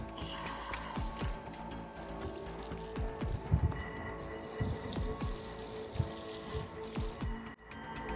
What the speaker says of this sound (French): Maintenant, il ne me reste plus qu'à arroser pour fixer le tout.